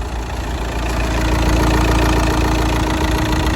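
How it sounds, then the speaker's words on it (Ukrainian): An Audi A4 engine idles steadily up close, a loud, even low rumble that holds throughout with no voices. "Запустили двигун."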